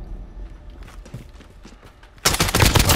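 Gunfire in the video game Modern Warfare: a low, muffled rumble gives way to a sudden loud, sustained burst of rapid automatic shots that continues to the end.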